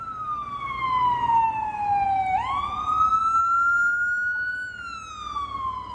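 A single emergency vehicle siren wails steadily on a busy city street in Amsterdam, sweeping down in pitch, then swinging back up and holding, loud and continuous over a low traffic rumble, with no talking.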